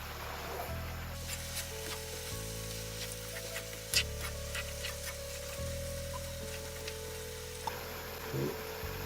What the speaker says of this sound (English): about 15 cardamom. Give that a good stir.